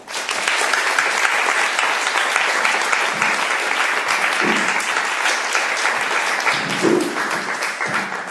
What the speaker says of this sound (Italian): Accoglietela con un grande applauso.